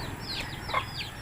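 A few soft chicken clucks and calls, close by, over a low outdoor background with no talking.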